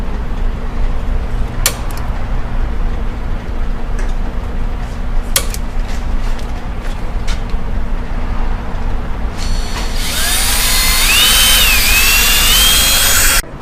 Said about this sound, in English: So we got our hose clamp drilled for safety wire.